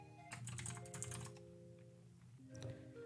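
Bursts of keyboard typing, quick clattering keystrokes up close, pausing briefly before another short flurry, over a soft background hum.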